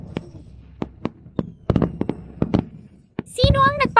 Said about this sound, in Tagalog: Sino ang nagpapaputok?